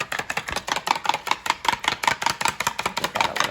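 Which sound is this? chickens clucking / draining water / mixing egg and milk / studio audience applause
mixing egg and milk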